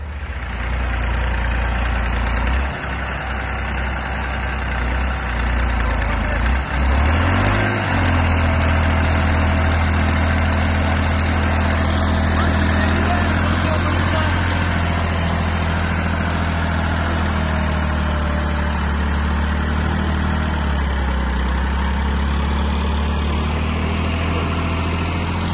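A new Massey 9500 tractor's engine idles steadily and loudly up close, a constant low rumble with a brief surge of revs near the start, outdoors on a Punjab farm with a 20-disc harrow attached.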